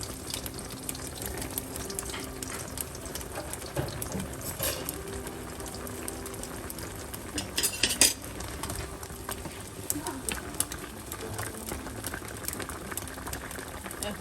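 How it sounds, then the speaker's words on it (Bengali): Mutton being fried down and stirred in a pot for mutton chops biryani, a steady sizzle and bubbling with occasional scraping of the spoon against the pot, close and continuous throughout. "এখন আমি এইভাবে মাংসটাকে কষিয়ে নিব 10 মিনিট"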